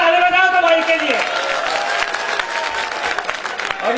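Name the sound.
audience applauding at poetry recital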